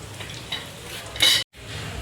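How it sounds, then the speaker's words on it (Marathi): Alu vadi, rolled colocasia-leaf fritters, frying in oil: a steady soft sizzle with utensil scraping, a louder hiss near the middle, then a brief drop to silence before the frying resumes. "चला आता थोडं घाणं तळायचं झालं तुम्हाला मी दाखवते"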